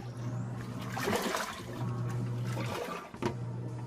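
A Panda PAN56MGP3 portable compact washing machine drains water in a steady rushing gurgle that runs throughout, with a constant low hum and a brief dip and knock near the end.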